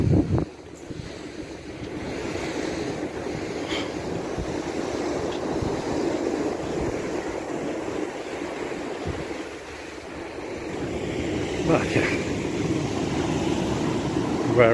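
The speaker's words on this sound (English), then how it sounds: "Very relaxing sounds of the waves." Waves wash continuously onto Lumley Beach in Freetown, Sierra Leone, with a steady rushing roar and gusts of wind against the microphone, with occasional louder surges.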